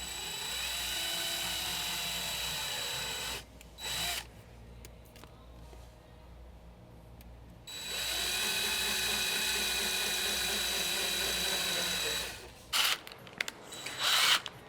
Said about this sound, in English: mark out these holes drill them out with the 1/8 inch drill bit and then the 3/8 drill bit